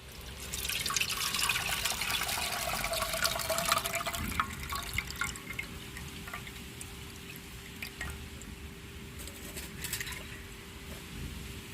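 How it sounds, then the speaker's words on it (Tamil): Tamarind water is poured into a crab curry, giving close liquid splashing and trickling that is strongest early on and then settles into softer drips and sloshes, with no speech. "இப்போ புளி கரைச்சி தாங்க நம்ம வைக்க போகிறோம்"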